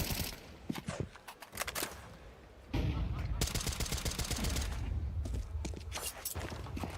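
Pistol fire in a Counter-Strike match: several sharp single shots early, then a dense stretch of rapid gunfire and clatter, with a voice talking over part of it.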